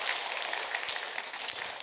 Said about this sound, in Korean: 우리 교역자들을 위해서도 여러분 박수 한번 해주시면 감사하겠습니다